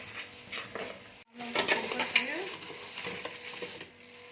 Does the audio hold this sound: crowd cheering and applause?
no